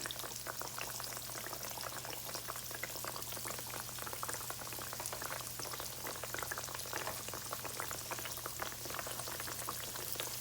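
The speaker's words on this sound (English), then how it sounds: "I'm gonna let these fry" Sliced green tomatoes frying in a pan, a dense, even crackle of bubbling oil that runs steadily without a break or any voice.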